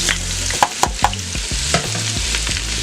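Andouille sausage browns in melted butter in a Power Pressure Cooker XL, a steady sizzle broken by a few sharp spoon knocks against the pot.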